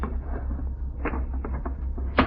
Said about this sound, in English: Take a look in the bunk drawer, Skipper.